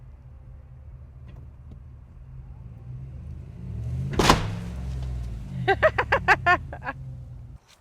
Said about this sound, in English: So we're going to get this attached to the other end of my truck, and we're going to give her a tug.